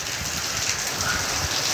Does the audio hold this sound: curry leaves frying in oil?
no